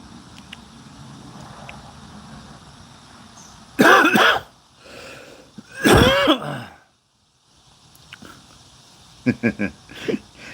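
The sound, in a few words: coughing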